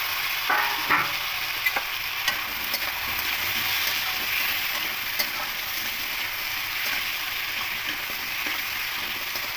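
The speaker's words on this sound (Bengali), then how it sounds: "দিয়ে আলুগুলো একটু হালকা লাল লাল করে ভেজে নেব" Sliced potatoes sizzle steadily in hot oil with fried onions and tomato for a rui fish chili curry with vegetables, while a spatula scrapes and stirs the pan in frequent light strokes, close and continuous.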